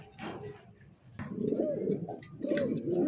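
Fancy pigeons coo in a cage, soft repeated rolling calls close by, overlapping into a steady murmur with no talking.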